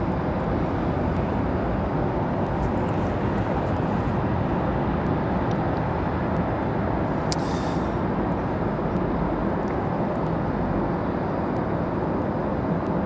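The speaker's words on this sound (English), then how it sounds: "Gonna float that A321 right on in." An Airbus A321 airliner comes in to land at Raleigh-Durham airport, a loud, steady broadband engine roar and rumble that holds for the whole stretch without any voices.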